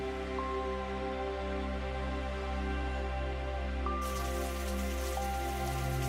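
Gentle rain falls at night outside a cabin porch, a steady soft patter with a constant low hum underneath, unbroken throughout.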